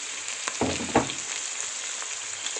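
Pieces of lamb liver fry in melted fat over a medium flame, a soft steady sizzle with a couple of brief stirring scrapes, fairly quiet and without speech.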